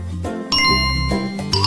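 Bright bell dings ring out in a short sequence, each clear metallic strike followed by a ringing tone over a bed of music, loud and close with no talking.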